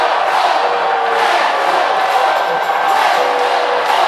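A packed arena crowd at a Hawaii men's volleyball match against Stanford roars loudly and continuously, a steady wall of cheering and shouting with whoops rising through it.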